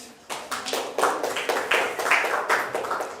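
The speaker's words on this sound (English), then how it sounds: "The clapping is getting weaker." A crowd claps in short, fairly thin bursts as names are read aloud at a study-abroad gathering in Greece, the applause rising and fading in uneven waves over about three seconds.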